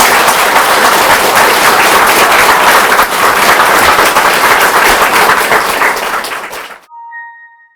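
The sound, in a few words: audience applause for the teacher's birthday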